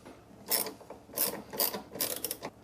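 A hand ratchet works loose the nut holding a headlight on a C5 Corvette, giving four quick bursts of close, crisp clicking with short pauses between them.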